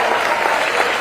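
An audience at a political campaign event breaks into dense, steady clapping, a loud continuous wash of many hands with a faint crowd murmur beneath.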